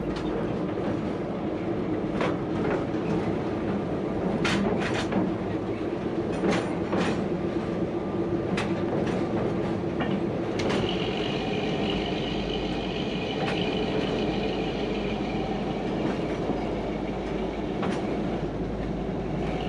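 Riding just behind the locomotive on the West Coast Wilderness Railway in Tasmania: a steady rumble of the train with clicking wheels on the rails and occasional squeals, continuous throughout.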